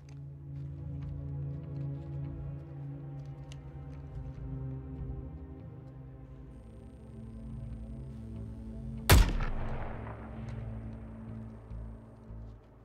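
A single sharp gunshot rings out in the Suicide Squad video game, loud and sudden over a low ambient musical drone, followed by a brief fading echo.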